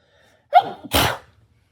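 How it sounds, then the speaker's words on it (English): A single loud, shrieking sneeze from a woman who screams as she sneezes, starting with a sharp sharp inhale-cry and followed by a bursting, breathy release, then silence. "Hold on, I'm going to sneeze."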